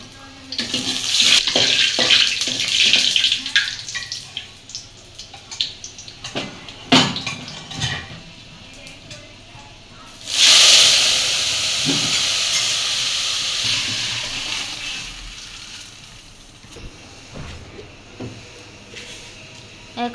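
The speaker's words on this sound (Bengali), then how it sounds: "তেল গরম হয়েছে, এখন দিয়ে দিচ্ছে পাঁচফোড়ন, দিয়ে দিচ্ছে শুকনো মরিচ" Whole five-spice and dried red chillies go into hot oil in a cooking pot, giving a sharp hiss that bursts up loudly partway through and then fades into a gentler sizzle, with a few clatters.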